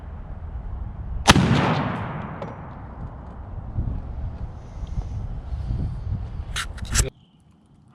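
A single loud close shotgun blast from a Benelli Super Black Eagle firing Winchester Longbeard shells outdoors, a sharp crack with a decaying boom, followed by wind noise and a couple of faint clicks.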